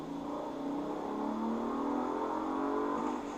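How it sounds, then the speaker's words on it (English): A 2022 Audi RS5 accelerates at full throttle in sport automatic, its engine note rising steadily in a loud, continuous drone heard from inside the cabin, with no talking. "if we're cruising in sport automatic and I floor it"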